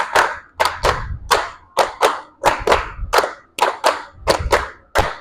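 A group claps in short unison bursts, five quick claps repeated three times with brief pauses between sets, loud and close, in a sports-class setting.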